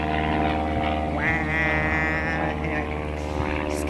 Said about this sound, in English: That plane's really loud.